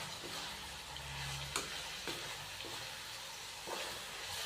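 Cumin powder and dry coriander powder being mixed into a frying chicken masala: a low, soft sizzle runs throughout, broken by a few distinct spoon scrapes and knocks against the pan.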